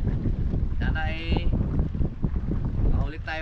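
Strong wind buffets a fishing boat at sea as waves pick up, a steady rushing roar throughout, with brief voices heard over it.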